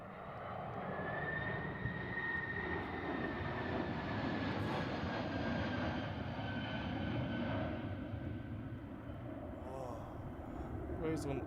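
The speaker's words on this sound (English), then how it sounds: "This Boeing 767 had to go around due to an Airbus A330neo still taking" Jet airliner, a Boeing 767 going around near an Airbus A330neo on the same runway, heard as a steady distant roar with a faint rising whine throughout, alone.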